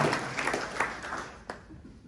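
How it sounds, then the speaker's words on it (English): Wedding guests at The Dumbo Loft in Brooklyn clap for the couple in a short, quiet burst of applause that thins out within two seconds, ending with a few scattered claps. "Let's give a big round of applause on that"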